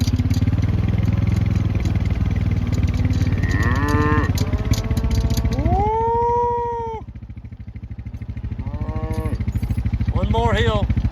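Cows and calves on a cattle drive of about 125 cow/calf pairs moo several times, some long and drawn out, over a steady low engine drone.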